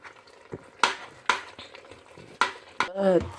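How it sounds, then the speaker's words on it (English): Spinach being stirred into fried egusi soup in a pot, heard as intermittent spoon clatters and scrapes with a soft simmer underneath, and a voice briefly murmuring near the end. "Add our spinach. Stir everything together."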